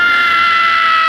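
Anime character Zenitsu from Demon Slayer lets out a loud, sustained high-pitched scream at steady pitch, which cuts off abruptly at the end.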